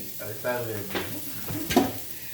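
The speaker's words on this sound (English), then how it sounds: "I added some garlic, some onions, little salt, and you stir that for a while." Garlic, onions and salt stirred in a frying pan, a soft sizzle with scraping spoon strokes rising in two short bursts, close and moderately loud, with a faint voice underneath.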